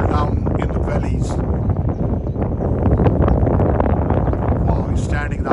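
Heavy wind buffets the microphone at an airport in valley terrain, a loud, continuous roar with gusty surges while a person talks over it.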